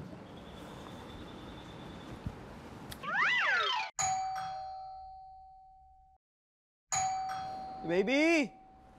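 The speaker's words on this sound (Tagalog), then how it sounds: "May tao. Doorbell eh." A doorbell in a home sitcom scene chimes twice with bright two-tone ding-dong notes separated by a pause, close and clear, with a hum and some background sound between rings.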